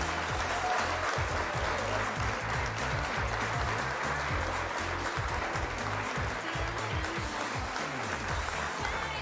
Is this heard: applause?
yes